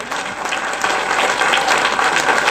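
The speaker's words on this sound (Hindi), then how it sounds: "इनके लिए जोर से तालियां बजाएं।" Students and guests at a school Republic Day celebration clap loudly together, a brisk, slightly uneven burst of applause that swells after a brief start and carries on to the end.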